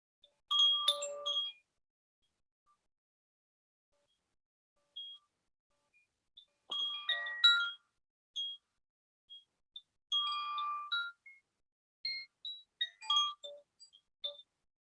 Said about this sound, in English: So you will hear my water chime, hopefully.